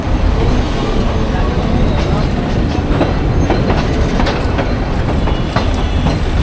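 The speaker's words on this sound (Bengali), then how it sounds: "ট্রেনটা খুব সুন্দর একটা কার্ভ নিচ্ছে" Agnibina train pulling out of Mymensingh station, a loud, close, steady rumble of wheels on rails with rattling carriages and intermittent clicks over track joints.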